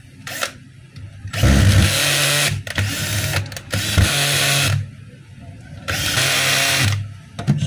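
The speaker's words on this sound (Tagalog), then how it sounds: "So ang kulang niyan yung dalawang screw. Ayan, tapos higpitan natin." Screws are tightened on a Makita 4131 circular saw with a power driver, heard as several loud whirring bursts close by, with short pauses and a few clicks between them.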